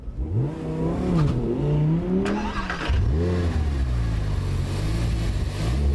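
A 2011 Audi R8 V10 Spyder's 5.2-litre naturally aspirated V10 revs up and down in several loud, close swells, pitch rising and falling with a brief sharp blip, no talking.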